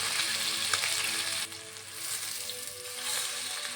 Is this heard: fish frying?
yes